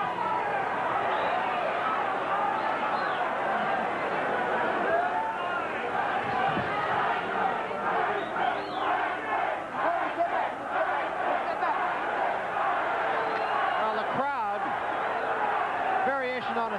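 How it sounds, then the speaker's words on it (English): Boxing arena crowd at the Mike Tyson versus James Smith fight, a dense, steady roar of booing and chanting for Tyson that fills the whole stretch, with a commentator talking over it. "they are yelling Tyson, Tyson"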